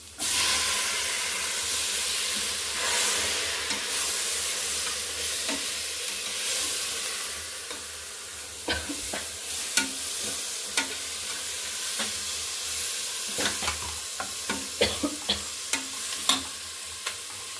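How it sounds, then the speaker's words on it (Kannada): Chopped tomatoes sizzle and hiss in a pan for soya pulao, the steady frying broken later by a run of sharp spoon scrapes and taps as they are stirred. "ನಾವು ಒಂದು ಲಾರ್ಜ್ ಸೈಜ್ 3 ಟೊಮ್ಯಾಟೊನ ಕಟ್ ಮಾಡಿ ಹಾಕ್ಕೊತಾ ಇದ್ದೀವಿ."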